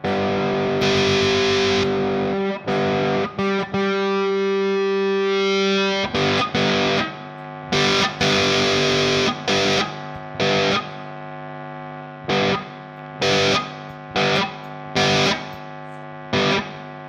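Electric guitar driven through an overdrive pedal with diodes turned fully up, heavily saturated, thick sustained distorted chords and riffs with choppy stops and restarts, loud and close.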